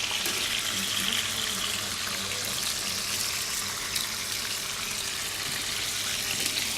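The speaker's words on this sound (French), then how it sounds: "On mijote bien l'ensemble." Cherry tomatoes with a pinch of salt simmer in a pan, giving a quiet, steady bubbling hiss that runs without a break.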